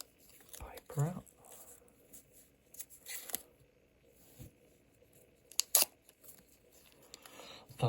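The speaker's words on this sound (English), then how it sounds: "Take this bit of paper out." Paper rustles and tears in short bursts as a wrapper is pulled from an Ingersoll The California skeleton automatic barrel-case watch box, close and quiet, with faint movement noise between.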